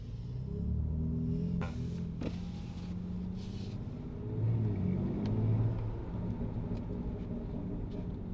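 A 2021 BMW X4 M Competition SUV drives and accelerates, its engine a steady low rumble heard from inside the cabin, swelling briefly as it pulls harder midway through.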